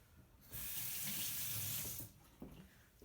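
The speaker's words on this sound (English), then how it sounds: "Let me rinse my spoon" A spoon rinsed under a running tap while mixing homemade watercolor paint, a brief steady splash of water lasting about a second and a half, followed by faint clinks as the spoon is handled.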